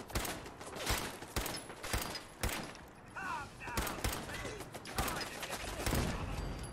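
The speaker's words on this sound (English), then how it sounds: "Where is that shooting coming from?" Bursts of gunfire in Fallout 4, a quick run of sharp shots with scattered single cracks and rapid volleys, fairly quiet overall and spread across the stretch without speech.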